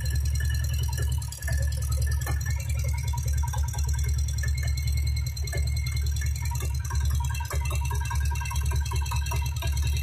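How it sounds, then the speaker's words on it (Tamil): Diesel Royal Enfield Bullet engine idling steadily, a low continuous thrum with rattly mechanical clatter, heard close up and alone as its speed is turned down. "இப்போ இன்ஜின் ஸ்பீடு கொஞ்சம் கொஞ்சமாக கம்மியாகிட்டதை உங்களால் ஃபீல் பண்ண முடியுது."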